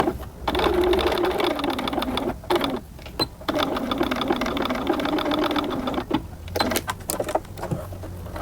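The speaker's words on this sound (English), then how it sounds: "you're going to sew on the seam line right up to the edge" A sewing machine stitches a collar seam on denim, a close, loud rapid needle whir running in several long bursts broken by short stops, with no talk.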